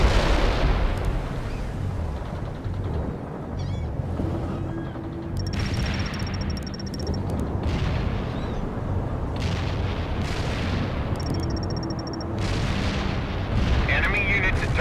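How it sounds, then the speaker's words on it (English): Mortar strike explosions in a military strategy video game, heavy booming blasts rolling continuously through the whole stretch with layered rumble and occasional electronic beeps, loud and dense. "Mortar strike inbound."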